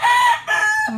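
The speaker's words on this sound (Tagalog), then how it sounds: "Magbe-breeding kasi kami ng mga manok." Rooster crowing in a long, loud cock-a-doodle-doo from chickens kept for breeding on a farm, close to the microphone, with a brief cluck-like note at the end.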